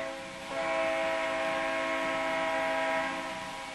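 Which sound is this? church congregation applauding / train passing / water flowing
train passing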